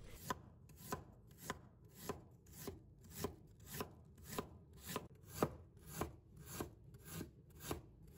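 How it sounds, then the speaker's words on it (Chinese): A knife chops peeled fresh ginger into thick slices on a cutting board, a steady run of about fourteen evenly spaced, crisp, close strokes with no voices. "再准备1块去皮的生姜，把它切成厚片"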